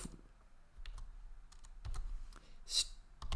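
Code being typed on a computer keyboard in scattered bursts, quiet and close, with soft irregular key clicks and a sharper clack near the end.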